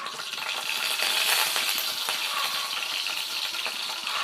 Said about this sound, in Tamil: இப்போ வெந்தயம் சேர்த்துக்கலாம்.